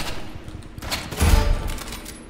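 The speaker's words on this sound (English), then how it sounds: "There he goes again with his stupid shotgun." A shotgun fires in a video game: a single heavy, booming blast near the middle, set against a constant background of other gunfire and game noise, with no talking.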